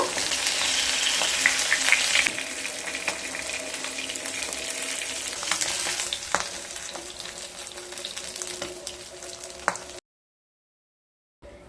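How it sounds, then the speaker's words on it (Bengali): Pieces of silver carp fry in hot oil, giving a steady, close hiss of sizzling with small pops that stops abruptly near the end. "এইভাবে সমস্ত মাছগুলোকে ভেজে নেব"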